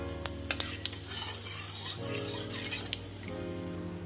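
Dried red chilli, cinnamon, cloves and cardamom hit hot oil in a pan for a Bengali prawn curry, giving a soft steady sizzle with a few sharp clinks of a utensil against the pot.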